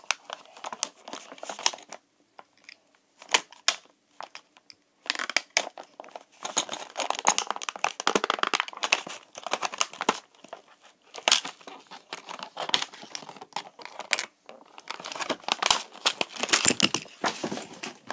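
Pokemon toy packaging being cut with scissors, heard as bursts of crinkling and crackling plastic separated by brief pauses, close and fairly loud, with no talk.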